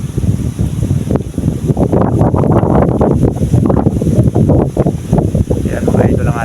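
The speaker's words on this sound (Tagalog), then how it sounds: "medyo malakas-lakas din pati ang hangin" Strong seaside wind buffets the microphone steadily while a kite flies, a loud, continuous rumbling roar with gusty surges and some faint talk mixed in.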